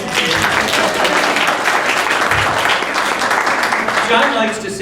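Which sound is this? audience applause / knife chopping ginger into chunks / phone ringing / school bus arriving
audience applause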